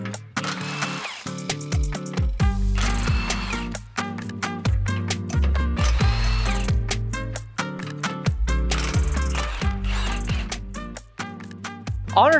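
A 12mm socket on a ratchet and power tool removes the rear crossmember braces under a third-generation Toyota Tacoma, giving repeated bursts of whirring and clicking with brief pauses between, close and loud.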